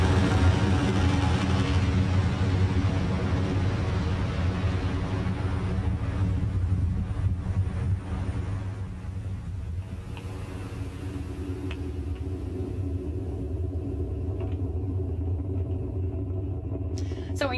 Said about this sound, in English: Falcon 9 has successfully lifted off from Launch Complex 39A at Kennedy Space Center